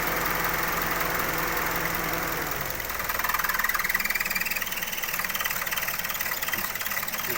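A Mazda 2 engine idles steadily up close, a constant droning hum with a slight shift in tone partway through and no talking.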